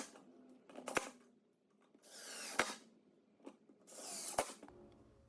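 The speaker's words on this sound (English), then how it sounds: "Just center the hardware on the cross pieces and attach with some 3/4 inch screws." Screws driven into wood to attach lazy Susan hardware produce short whirring driver bursts with sharp clicks and creaks, three grinding runs in quick succession, close and quiet.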